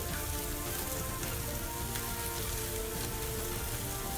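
Beef shish kebabs searing on the hot side of a grill give off a dense, continuous crackling sizzle like heavy rain, steady and close with no voices.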